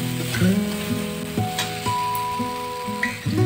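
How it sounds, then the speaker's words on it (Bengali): Spice masala with a spoonful of kasuri methi sizzles steadily in a pan for a crab curry, with close, continuous frying hiss and occasional stirring scrapes and clinks against the metal. "মেথি পাতাগুলো ভালো করে মশলার সঙ্গে কষিয়ে নেব।"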